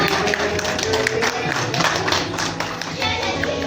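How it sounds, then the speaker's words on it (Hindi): Audience at a national drama festival applauding a little girl brought onstage, a steady dense clapping that fills the hall throughout, close and moderately loud. "जोरदार तालियां छोटी बच्ची के लिए"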